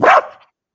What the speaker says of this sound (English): We meet Bentley, Ashley's puppy